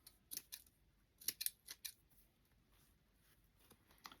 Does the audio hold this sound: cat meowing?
no